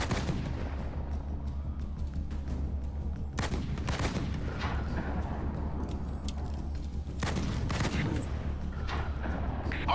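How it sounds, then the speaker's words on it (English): Gunfire from ground troops in a combat video game: bursts of rapid shots and heavier booming fire arriving in clusters, loud and close, with scattered single cracks in between and no talk. "I'm taking fire from ground troops."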